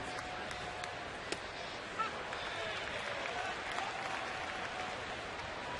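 Ballpark crowd at a Cubs at Padres night game in San Diego, a steady broadband roar of cheering fans that holds throughout, with a couple of brief louder bursts.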